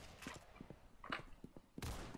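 Double pistols firing in the Roblox game Arsenal: a quick string of light, snappy shots over about two seconds, ending in a louder, denser burst.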